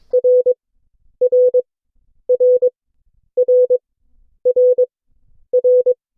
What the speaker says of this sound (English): here's the sound of the letter R.